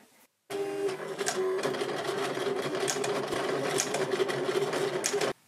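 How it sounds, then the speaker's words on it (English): Silhouette Cameo cutting machine slicing black vinyl, a steady close whirring and buzzing that starts abruptly after a short silence and runs continuously for about five seconds before stopping. "So this is my Silhouette Cameo. I've got some black vinyl."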